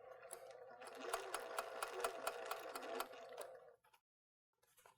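A sewing machine stitches quilt fabric in a quick, even mechanical patter for about three seconds, close and clear, then stops, with a brief faint stir after a pause.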